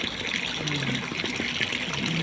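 Hot spring water wells up from underground and flows into a pool in the village of Orens, a steady broadband trickling and gushing that continues without a break, with faint voices murmuring underneath.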